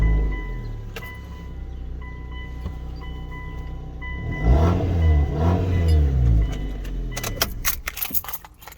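A 2005 Hyundai Tucson engine runs with a leaking exhaust flex joint, a low rumble that swells into a brief rev and then drops back, with clicks and rattles near the end.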